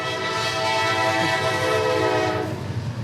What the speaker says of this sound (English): as the second train of the evening goes by